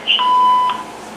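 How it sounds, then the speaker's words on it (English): A single electronic beep from a BellSouth MH9934BK answering machine, clean and tonal, sounds once for about half a second and then fades into quiet room hiss. "this answering machine is very beep happy"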